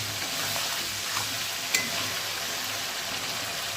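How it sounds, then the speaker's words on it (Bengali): Spices and potatoes sautéing in a pan, with a continuous moderate sizzle and a few stirring clinks and scrapes, one sharper knock near the middle. "মশলাটা কষাচ্ছি আলুর সঙ্গে"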